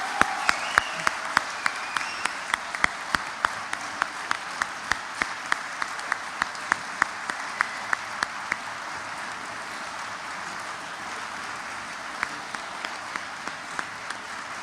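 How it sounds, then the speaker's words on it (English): Steady applause from a large high school awards audience fills the whole stretch, a dense wash of clapping with a few louder individual claps standing out. "Let's have one more round of applause for our People's Choice Award winners."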